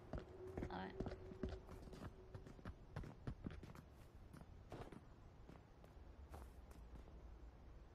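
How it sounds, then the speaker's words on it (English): Running footsteps in Darktide, a quick series of faint thudding steps near a stairway, with people talking over them in a quiet stretch of play. "I hear someone running."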